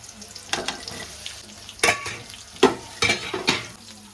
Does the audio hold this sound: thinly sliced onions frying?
yes